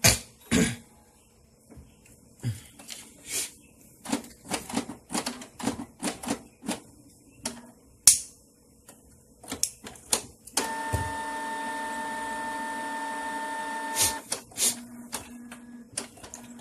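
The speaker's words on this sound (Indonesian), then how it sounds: "Lalu kita perintah untuk ngeprint." A Canon MX497 inkjet printer fitted with a continuous ink supply system clicks and clunks in short irregular bursts, then a steady motorized whir runs for a few seconds before more clicks.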